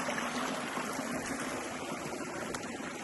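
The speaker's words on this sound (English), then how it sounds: "There's a bunch of deeper waterfalls over there." A mountain stream and waterfalls rush steadily beside a log home property, a continuous broadband water roar with no pauses.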